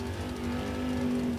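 A Camaro and an all-Dodge car run a Super Street drag race at National Trail Raceway, heard as a sustained engine drone holding a steady pitch, moderately loud and a little distant, with no talk.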